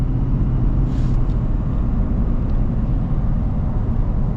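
A lifted Ford F-350 with a Power Stroke diesel drives along, heard from inside the cab as a loud, steady low drone of engine and road noise with no clear shifts or breaks.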